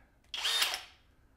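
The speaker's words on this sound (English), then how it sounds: "Clutch at 23, hammer mode engaged." Flex cordless hammer drill in hammer mode, clutch set at 23 with a masonry bit, giving one short, faint burst of whirring that cuts off after about half a second.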